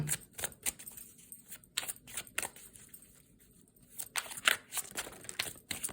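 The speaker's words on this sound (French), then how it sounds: "Je bats les cartes avec le tirage des anges de l'amour." A deck of angel oracle cards being shuffled by hand, giving a run of quick, dry papery snaps and riffles in irregular bursts, close and moderately quiet, with a brief lull partway through and no talking.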